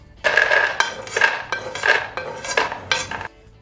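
Roasted spices for an Andhra-style brinjal curry scraped and tipped from a hot pan into another vessel, giving a run of close metallic clinks and scrapes in bursts of five or six, with no voices.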